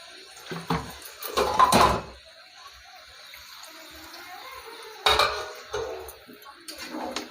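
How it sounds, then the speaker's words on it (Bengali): Metal clatter of a lid set onto a kadai during home cooking of a Bengali fish-head and pui shak dish, two clanks early then another later, fairly close, with light water sounds between. "এবার আমি একটু ঢাকা দিয়ে দেব"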